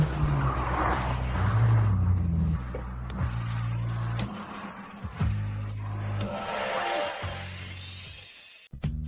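A car drives fast while following another car, the engine roaring and changing pitch, then a sharp tire skid squeals near the end before a sudden break.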